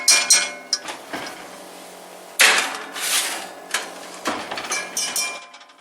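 A metal pan of biscuits slid into a home kitchen oven while bacon grease heats nearby: sharp metallic clanks and clatters, a louder bang midway, then smaller scattered knocks, close and without talk.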